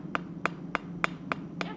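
Hammer blows ring out on an anvil while forging Christmas gifts, six evenly spaced sharp metallic strikes at a steady rhythm, fairly close over a low background hum.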